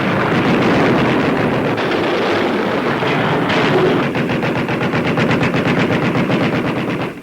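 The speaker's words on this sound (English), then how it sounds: "A Jap plane is met with a hail of anti-aircraft fire." A wartime newsreel scene from 1942 of anti-aircraft guns firing at a Japanese plane from a ship: a dense, loud, continuous hail of rapid gunfire with wind buffeting, and the bursts growing more distinctly rhythmic toward the end.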